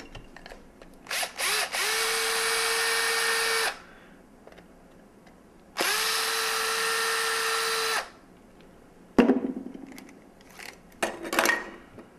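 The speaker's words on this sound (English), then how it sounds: "So from here, we're going to be unscrewing the back part of the plunger." Parts of a Nerf Longshot plunger being unscrewed, heard as two sustained bursts of a close, whirring power driver with short clicks and clatters of handling after them.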